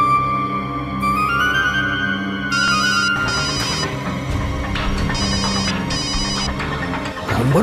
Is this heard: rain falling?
no